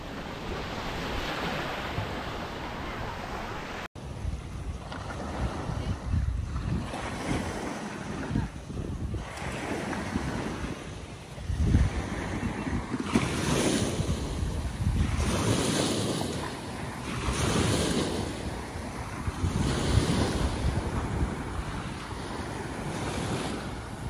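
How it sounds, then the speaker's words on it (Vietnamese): Sea waves on a sandy beach at Suoi Tien, Bai Bang, washing in and receding in rolling surges under heavy wind buffeting the microphone, faint voices in the background. "Tắm cát nghe tiếng sóng biển êm không con?"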